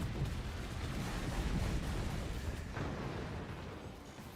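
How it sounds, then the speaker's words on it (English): Incendiary heavy mortars fire in the Forts RTS game, producing a dense, rumbling barrage of booms and bursts that blend into a continuous loud roar for several seconds, with no voices. "Incendiary heavy mortars"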